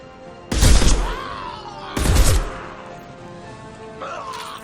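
Gunfire in the video game Mass Effect 2 during a quarantine-zone firefight, two heavy close blasts with long ringing tails about a second and a half apart, then a softer third burst near the end.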